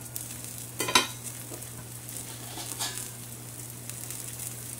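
Ragi appe frying in an appe pan as the covering plate is lifted off: a clink of the lid followed by soft, quiet sizzling under a low steady hum, with faint scraping touches.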